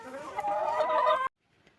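Close hens clucking in a dense, busy burst lasting over a second, then cutting off abruptly to near silence.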